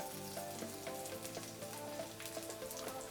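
Prawns frying in a pan before cherry tomatoes go in, a soft, even crackle and sizzle of hot oil, faint and continuous throughout.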